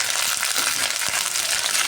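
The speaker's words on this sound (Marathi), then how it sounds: "कढीपत्ता भाजताना सुरुवातीला तडतडतो, चांगला भाजला की हा आवाज बंद होतो" Curry leaves roasting in about two spoons of oil in a wok, a loud dense crackle and hiss that stays steady and close for the whole stretch, with no voices.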